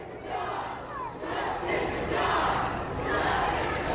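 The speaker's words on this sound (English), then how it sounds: "the crowd was screaming justice for John" A crowd gathered outside a courthouse screams and chants together, a dense, loud roar of many voices that swells and holds steady throughout.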